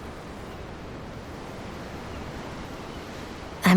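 Steady ocean surf in Tales of Arise washes in as continuous broadband rushing, heard from aboard a ship, with a louder burst at the very end.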